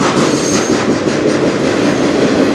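The A491 local freight, a slow 'snail train', rolls past close by on the Strathroy Subdivision, a loud, steady rumble of wheels and railcars with faint clickety-clack running through the whole stretch.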